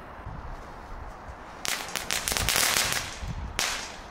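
Belgian crackling firecrackers go off in a sharp, dense burst of rapid snapping crackles lasting a couple of seconds, followed by a final loud crack, outdoors with no talking.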